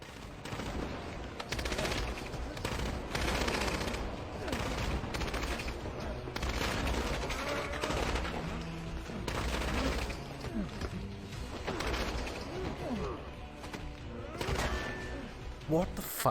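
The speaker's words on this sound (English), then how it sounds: "They ran in a circle and shot at the fucking floor" Dense, continuous gunfire from a Resident Evil game scene, with characters running in a circle and shooting at the floor; rapid overlapping shots and bursts fill the whole stretch at an even, loud level.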